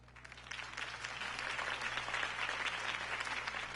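A crowd applauds a Harvey Dent campaign speech in Batman: The Telltale Series, a sustained wash of clapping from many hands, even and fairly loud over a low steady hum.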